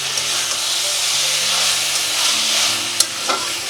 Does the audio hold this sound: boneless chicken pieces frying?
yes